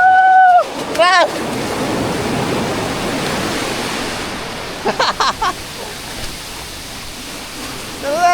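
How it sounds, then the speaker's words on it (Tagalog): Strong ocean surf on a beach at Dingalan, Aurora, a loud, continuous wash of breaking waves with a few brief shouts and voices over it. "Grabe lakas ang alon dito mga idol"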